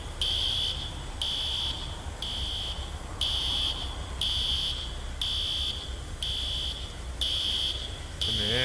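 A fire alarm in the firefighting game EmergeNYC beeps in a steady on-off pattern, loud, shrill pulses of roughly half a second repeating about once a second, over low rumble.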